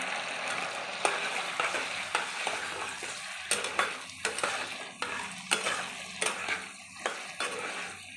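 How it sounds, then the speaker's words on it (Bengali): Chili chicken stir-fried with tomato sauce in a pan gives a steady sizzle, with a spatula scraping and clinking against the metal in repeated close strokes. "সমস্ত দিয়ে একটু কষিয়ে নেব নেড়ে ছেড়ে"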